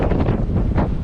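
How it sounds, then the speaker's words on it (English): Heavy blizzard wind buffets the microphone with continuous low roaring rumble and gusty surges, loud and close, with no other sounds standing out. "Sorry about the wind."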